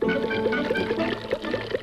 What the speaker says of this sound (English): look what happens when I pour some over this rock